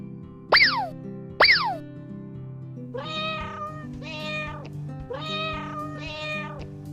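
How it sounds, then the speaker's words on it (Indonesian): A cat meows repeatedly in a clear, close, rhythmic series of about four drawn-out calls, preceded by two sharp springy boing-like tones, with no one talking. "kucing"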